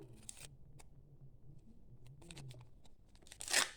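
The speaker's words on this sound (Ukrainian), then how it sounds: "відкриваємо пакетик" Quiet crinkling and short rips of paper, ending in a louder tearing burst as a small packet is pulled open nearby.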